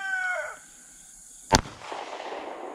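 A single sharp pistol shot from a DiamondBack DB9 Gen4 at an outdoor range, loud and abrupt with a short ringing tail, preceded by a fading warbling tone and followed by low background noise.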